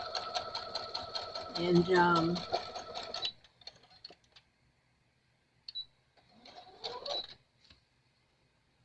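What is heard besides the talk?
sewing machine top stitching fabric scraps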